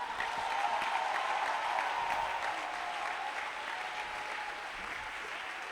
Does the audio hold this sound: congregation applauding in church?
yes